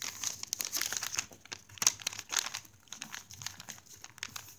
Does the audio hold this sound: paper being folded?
yes